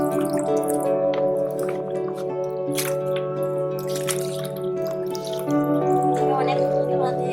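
Dhundul (sponge gourd) leaves are rinsed by hand in water, with close splashing, dripping and squishing going on steadily while someone talks over it.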